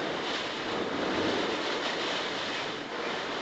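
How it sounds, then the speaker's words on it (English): Strong storm wind with pouring rain makes a dense, steady roar of rushing noise outdoors, fairly faint and even throughout with no voices. "And so windy."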